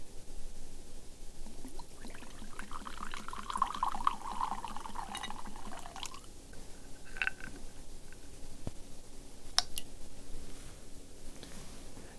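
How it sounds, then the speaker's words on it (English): A drink poured into a glass, a steady close trickle with a rising gurgling fill in the middle, followed by a few faint clinks in a quiet room. "I'm just gonna pour you a little drink."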